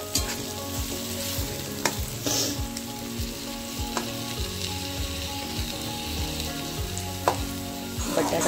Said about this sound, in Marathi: पुन्हा एकदा चांगलं हलवून घेऊया।